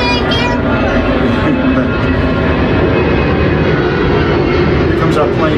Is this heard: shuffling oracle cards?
no